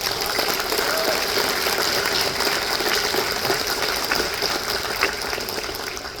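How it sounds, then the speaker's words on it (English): Sustained applause from an audience at a public event honoring a congressman, dense steady clapping that fills the room at a constant loud level with no voices over it. "could you please give him a round of applause?"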